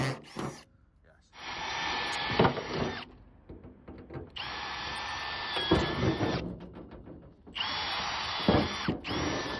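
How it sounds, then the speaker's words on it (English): A hammer drill bores out rivets on a Citroën C1 during a ram air intake fit, whining loudly in three long bursts separated by short pauses, close up, with brief talk in the gaps. "So I'll just carefully drill these rivets out"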